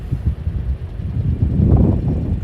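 A wind gust from supercell storm outflow near Sidney, Nebraska buffets the microphone with loud, uneven rumbling surges that swell toward the end.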